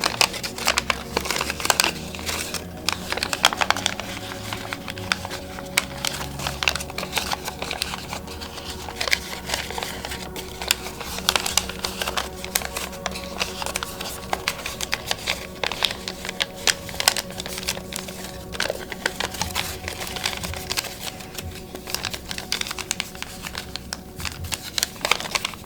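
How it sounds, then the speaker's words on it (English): Crisp paper crinkles and creases as an origami giraffe is folded and its creases are reversed, a steady run of close, soft rustling and crackling with no talk. "So I'm going to open that up and reverse those creases so they fold in."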